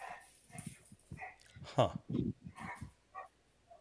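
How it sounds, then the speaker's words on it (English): Dogs bark and yip in a few short bursts mixed with whimpers, fairly close, while a person talks over them. "My dogs are going crazy."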